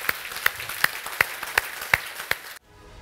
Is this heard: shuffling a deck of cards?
no